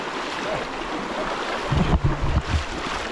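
A strong river current rushes steadily past as people wade across it, a dense broadband roar of flowing water with louder splashes and sloshing bursts near the end.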